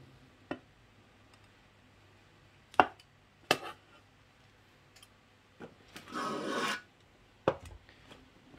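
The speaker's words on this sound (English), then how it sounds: "Chop the mushroom." Shiitake mushrooms being chopped with a knife on a board: a few sparse, crisp single strikes spaced well apart, then a short scraping sweep and one more cut, all quiet and close.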